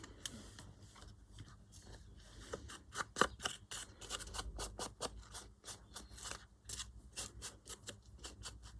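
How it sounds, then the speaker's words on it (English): Scissors trimming the edges of a paper guest cheque for tea bag art, a rapid series of close, crisp snips and small paper rustles, steady and alone without talk. "You can cut the edges a bit."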